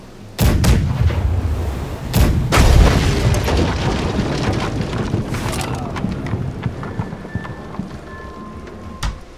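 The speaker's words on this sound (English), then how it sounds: "Left side cannons." Ship cannons fire in a naval battle in the game Blackwake: two heavy booms land close together early on, followed by rolling rumble and scattered distant shots that fade, with one last sharp blast at the end.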